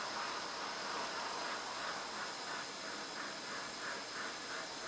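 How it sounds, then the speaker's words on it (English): A steam iron hisses steadily on a damp Australian DPCU/AMCU camouflage shirt, giving a continuous soft close-up rush of steam with a faint rhythmic pulsing. "steam and a damp surface and get rid of all of those wrinkles"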